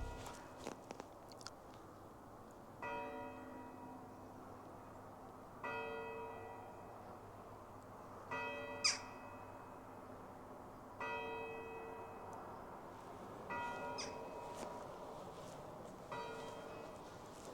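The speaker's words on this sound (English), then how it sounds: "I was hoping there might be a bit more of a church bells there" Church bells toll at a distance in the Leicestershire countryside, several rings spaced a few seconds apart with lingering tones, over faint outdoor background and occasional small nearby noises.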